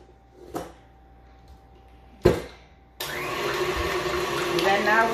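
Electric stand mixer beating eggs for an Italian sponge cake (ciambella), switched on after a couple of clunks and then running steadily with a whirring motor hum for the rest of the moment.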